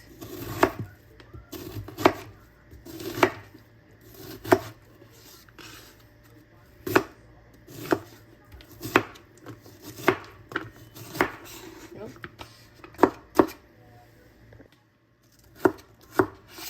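A knife chops through an onion on a cutting board for gumbo, making sharp, evenly spaced thuds in bursts with brief pauses between them, close and clear with no talking.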